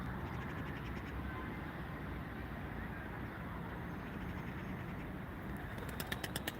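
Ankara tumbler pigeons cooing amid steady outdoor background noise, soft low calls running throughout, with a brief burst of flapping wings or clicks near the end.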